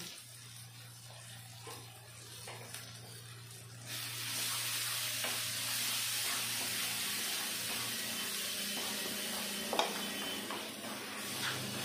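Spice paste with turmeric and cumin powder frying in a pan for prawn malai curry, a soft background hum that jumps into a loud, steady sizzle, with occasional stirring scrapes.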